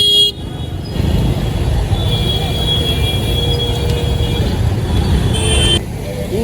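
Car horns toot repeatedly in a traffic jam on rain-flooded Surat streets during heavy rain, over a steady rumble of engines and road noise, with people talking nearby.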